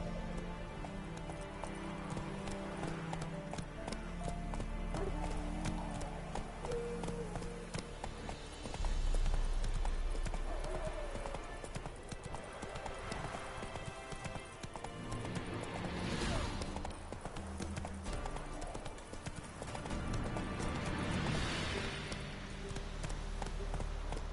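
A horse gallops in The Witcher III, rapid hoofbeats clopping in a steady rhythm under rain-like patter and game ambience, loud and continuous throughout.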